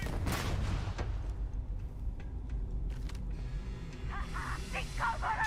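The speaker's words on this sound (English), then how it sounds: "Grenade incoming!" A grenade goes off in the space game Starfield, a loud burst near the start followed by rumbling battle noise, scattered shots and mechanical clatter over several seconds.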